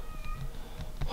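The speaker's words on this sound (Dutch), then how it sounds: "De kat van mijn vriendin." A cat meows nearby in a home with an aquarium, a short, fairly faint, drawn-out call over soft background noise.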